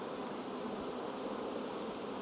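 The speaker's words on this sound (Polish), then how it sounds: "Młoda pszczoła wylatuje i takimi zygzakami jakby lata, oddala się od ula" Honeybees fly about and land at the entrance of a hive during the first honey harvest after the rapeseed bloom, making a dense, steady buzzing swarm sound close by, with no voices.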